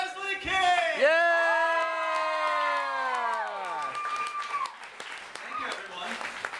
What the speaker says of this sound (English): I appreciate all the clapping